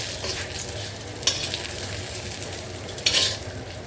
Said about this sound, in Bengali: তো এখানে যে বেগুনটা ভেজে নিচ্ছি।